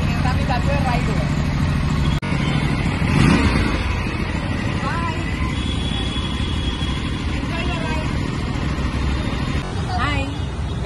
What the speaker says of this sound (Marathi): बाईक घेतलेली आहे मस्तपैकी. आता आम्ही जातोय राईडवर.